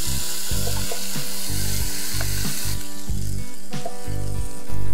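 Chopped raw potatoes and tomatoes sizzle and fry loudly in a hot pan, a steady close hiss broken by repeated scraping stirs.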